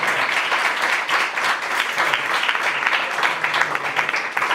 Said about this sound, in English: Everyone give a big round of applause for her.